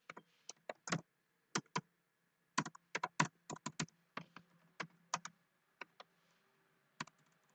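A computer keyboard is used to type C code, with irregular bursts of crisp close-up keystrokes and short pauses between words in a quiet room.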